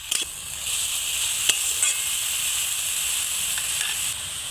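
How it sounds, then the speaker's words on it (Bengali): Potatoes frying in a pan make a continuous bright sizzle close by, steady in level, with a few faint clicks and nobody talking. "এবার দেখুন আলুটাকে আমি এইভাবে ভেজে নেব ভালো করে"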